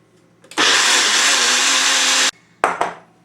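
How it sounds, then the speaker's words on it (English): A kitchen blender mixing pancake batter roars loud and steady for close to two seconds, cuts off, then gives two short bursts. "now that we're done fixing the blender, we're going to incorporate all this stuff together"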